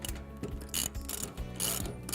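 A ratchet wrench tightening a 19mm nut on a Cobra GCT320HD garden hand cart wheel, quick rhythmic clicking strokes in short bursts, close and crisp.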